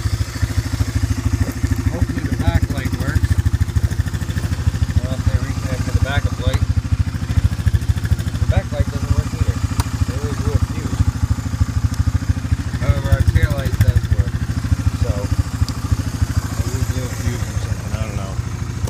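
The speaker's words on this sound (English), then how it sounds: "Winch works, I love it." A winch on a Honda Fourtrax 300 4x4 ATV whirs steadily and mechanically for a long stretch, close and fairly loud, with some clatter and a few thumps.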